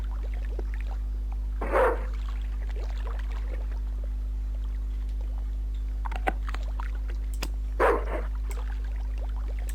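Two short dog barks, about six seconds apart, in Broken Sword 2: The Smoking Mirror, over a steady low electronic hum, with a few faint clicks in between.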